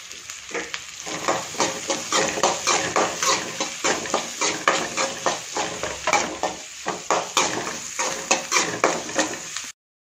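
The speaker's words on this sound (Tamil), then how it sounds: "இப்போ இந்த வெங்காயத்தை போடலாம், வெங்காயம் நல்லா வதங்கட்டும்." Onions sautéing in a pan for vegetable-stuffed chapathi, stirred steadily so a spoon scrapes in a regular rhythm over a continuous close sizzle, with no talking.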